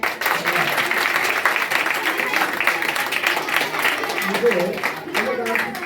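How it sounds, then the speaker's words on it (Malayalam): An audience at a children's summer festival in Nilambur breaks into sustained, dense applause, a crowd of hands clapping steadily throughout with a voice faintly audible under it. "കൈയടി കൊടുക്കും."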